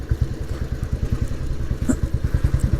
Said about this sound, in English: you can always squeeze through with a motorbike, can't you?